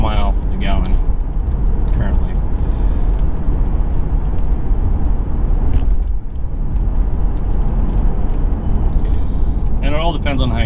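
Steady low road and engine rumble inside a BMW cruising on the road, continuous and fairly loud throughout, with a voice talking over it at the start and end.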